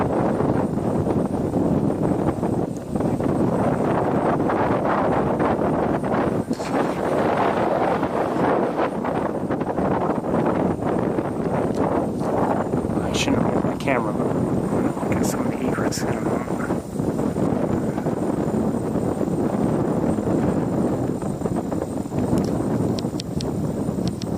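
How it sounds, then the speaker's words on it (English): Strong wind buffeting a microphone outdoors, a continuous loud rumbling roar throughout with brief gusty flutters, a voice partly heard under it. "Wind or no wind, it's blowing right on us."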